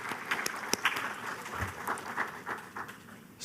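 A short burst of audience applause for a presenter at a university forum session, scattered moderately loud claps forming a steady patter that runs throughout.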